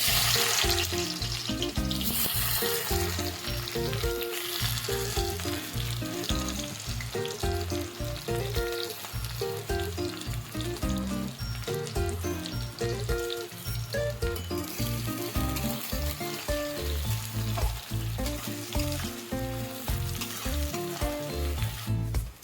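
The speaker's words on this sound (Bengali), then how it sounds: "তেল গরম হয়ে গেছে, এবার পেঁয়াজটা দিয়ে দেবো।" Sliced onions fry in hot mustard oil, giving a loud, continuous crackling sizzle close up, broken by occasional stirring and scraping in the pan, with no talking.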